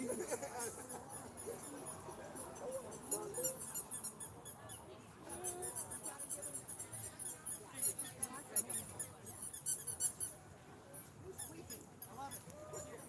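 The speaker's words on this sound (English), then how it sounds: "That's the frogs." Small frogs squeak repeatedly in short, high chirps at an outdoor protest rally in Lakewood, Washington, fairly faint beneath crowd noise and people talking.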